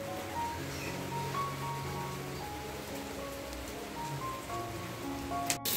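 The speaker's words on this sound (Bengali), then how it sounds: "দেখো এখনো বৃষ্টি পড়ছে।" Steady rain falling outdoors during a wet day, a continuous soft hiss of drops with low background hum and occasional faint tones, fairly close and even throughout, with no talking.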